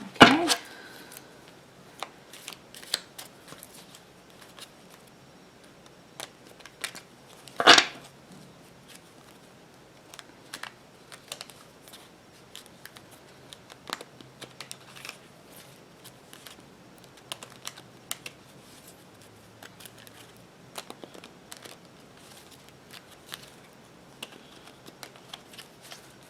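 Tarot cards are shuffled by hand in a quiet room, giving a long run of soft, irregular riffling clicks and taps with occasional louder slaps.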